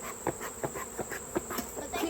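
Honeybees hum steadily at the hive in a dense, close, continuous buzz, with many small wingbeat flickers rising and falling through it and no talk.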